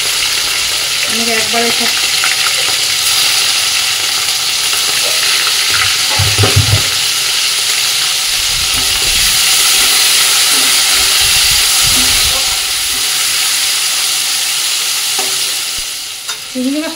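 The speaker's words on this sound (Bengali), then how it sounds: "তেলের মধ্যে এই দেখো বড় বড় সাইজে নুন হলুদ মাখিয়ে রাখা চিংড়ি মাছ, এটা দিয়ে দেবো।" Large salted, turmeric-coated prawns fry in hot oil with whole cumin, giving a steady, loud sizzle and hiss with occasional stirring clatter, a brief voice heard over it.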